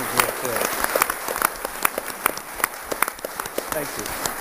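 A crowd claps at a candidates forum in Wakefield, New Hampshire, a dense burst of scattered hand claps that rises and falls over several seconds, with voices mixed in.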